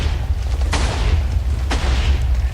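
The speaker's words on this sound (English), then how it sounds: "the TNT explosions are non-deterministic" Two deep booming TNT blasts go off about a second apart inside a Minecraft tunnel bore, each a sharp broadband burst over a constant low rumble.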